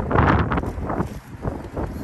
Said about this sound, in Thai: ตอนนี้ลมมันแรงนะ